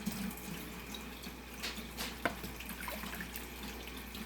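Tap water runs for a homemade bleach sanitizing solution for DIY Clorox-style wipes, mixed at a cup of water to half a tablespoon of bleach. A steady, moderate hiss of flowing water with one brief clink partway through.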